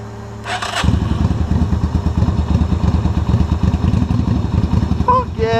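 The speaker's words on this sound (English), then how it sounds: "First jump start on a motorcycle." A motorcycle engine fires up after a jump start and settles into a loud, steady, throbbing idle with a rapid pulsing beat, close by, a brief voice in the background near the end.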